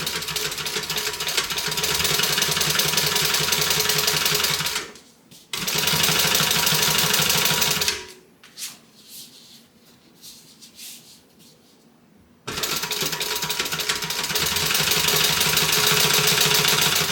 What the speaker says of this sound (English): you're going to stitch top stitch on the lining itself, capturing that seam allowance underneath.